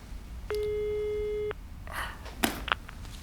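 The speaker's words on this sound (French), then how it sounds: "Ça sonne." A telephone gives a single electronic ring, a clean tone lasting about a second, followed by a few faint clicks on a quiet line.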